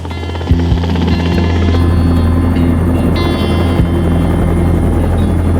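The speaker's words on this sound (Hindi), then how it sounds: "जैक, हेलीकॉप्टर के लिए शुक्रिया।" A helicopter drones steadily overhead, its rotor beating in a loud, continuous low thrum with a whining engine tone above it.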